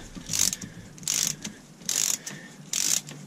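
A hand ratchet snugging the riser bolts on a Mercruiser 5.7 marine engine, four bursts of rapid metallic clicking at an even pace, close and clear.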